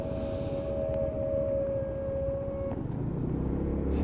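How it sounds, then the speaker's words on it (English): A lorry's brakes squeal in a long steady high tone for nearly three seconds over rumbling engine and road noise, heard nearby outdoors before the squeal cuts off and the rumble continues. "Squeaky brakes off the lorry."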